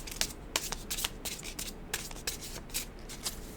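Tarot cards are shuffled by hand from a deck, producing a steady run of crisp riffling and flicking bursts, close and fairly quiet, with no talking.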